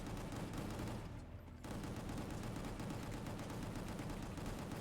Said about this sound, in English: Grave fires 4 times every time you shoot